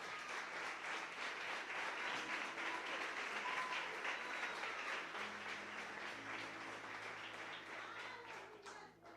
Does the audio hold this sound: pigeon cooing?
no